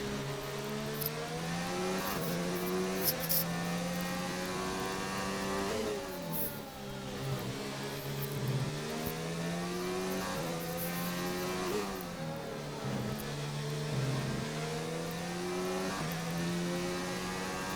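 Formula 1 racing game car engine, a continuous high-pitched whine rising and falling through gear changes as the car accelerates and overtakes, steady and loud with no talking.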